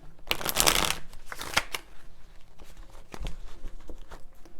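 Tarot cards shuffled by hand in a quick riffling burst near the start, followed by softer card slides and a few brief taps, close and alone.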